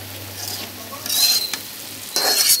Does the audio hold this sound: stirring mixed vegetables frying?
yes